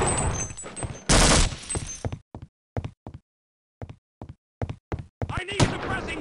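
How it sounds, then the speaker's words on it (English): Enemy gunfire in the video game Half-Life: Opposing Force: a loud burst of shots followed by a string of short, sharp separate cracks with gaps of silence between them, then a final noisy volley. "Where are they shooting from?"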